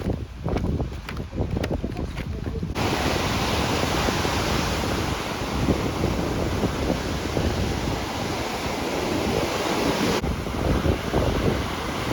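Sea waves wash onto a beach in a continuous loud roar mixed with strong wind buffeting the microphone, after a brief rougher start.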